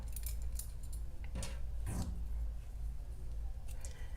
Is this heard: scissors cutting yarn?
yes